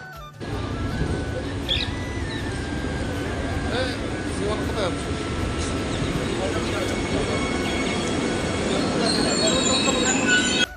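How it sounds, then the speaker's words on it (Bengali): A train rumbles into a railway station with a steady low roar and faint wheel squeals, while people talk over the noise. "আর চলে এসেছে আমাদের ট্রেন"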